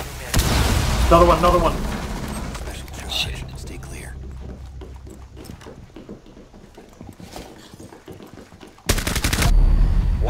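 Gunfire in Rainbow Six Siege comes in short bursts between players talking over it, with a loud burst opening the clip, quieter shots in the middle and another loud burst near the end.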